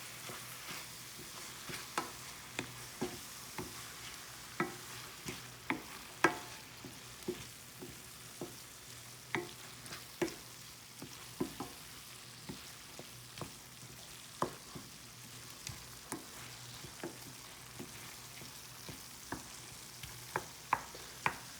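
Tofu scramble with soy milk being stirred in a frying pan: a steady soft sizzle runs throughout while a spatula scrapes and taps the pan in regular clicks, close and clear, with no voices.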